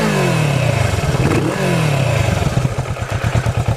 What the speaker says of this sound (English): let's hear how this exhaust sounds